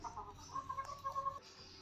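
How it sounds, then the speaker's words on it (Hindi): An Ayam Cemani hen clucks softly and briefly, a few quiet low clucks close by, with no talking. "मुर्गी जो कि डर के बाहर निकल आई और ये अब फिर जा रही है अंदर"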